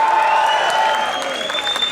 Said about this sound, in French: À la fin du morceau, on applaudit.